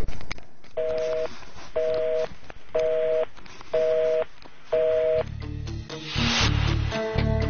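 A telephone busy tone repeats after a call is hung up: five evenly spaced beeps with short gaps, clear and prominent, followed by muffled handling noise and other sounds at the end.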